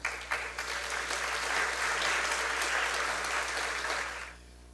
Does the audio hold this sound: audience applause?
yes